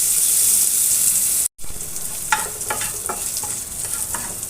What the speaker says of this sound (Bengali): পেঁয়াজটাকে নেড়ে চেড়ে লালচে করে ভেজে নেব।